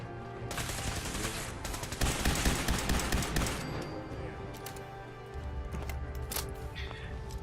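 Laser weapon fire in Fallout 4 during a fight with synths: rapid bursts of sharp, crackling shots come in clusters, loudest in the first few seconds, with more scattered shots later against steady game sound.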